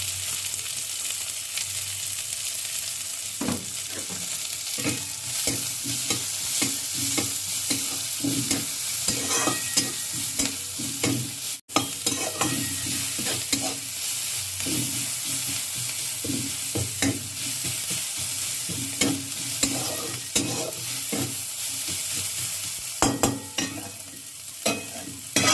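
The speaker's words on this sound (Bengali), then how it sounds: "তার মধ্যে আমি আদা রসুনটা দিয়ে দিলাম।" Grated ginger and garlic sizzle in a pan with browned onions for a dhaba-style egg curry. A constant loud hiss comes under repeated scraping stirs throughout.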